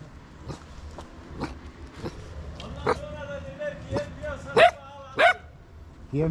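A female dog on a mountainside farm barks several times, sharp separate barks, the loudest two near the end, over a low background with faint talk.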